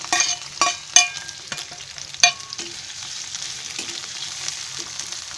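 Bell peppers fry in a little oil, giving a soft sizzle broken by several sharp clinks and scrapes of a spoon stirring in the pan, close by with no talking.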